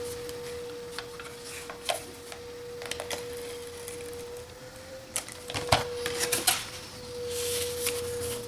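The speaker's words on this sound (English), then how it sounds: "now we can take our fast fuse and run it down the seam" A Fast Fuse heat sealer drawn along the seam of a paper gift bag gives a steady faint whine throughout, with scattered light clicks and rustles of the bag.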